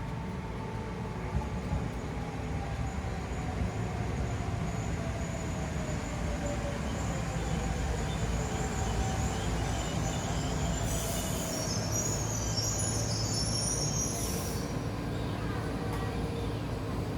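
A Tren Maya passenger train rolls into the station with a continuous low rumble and drawn-out high wheel squeals, moderately distant and steady for the whole stretch.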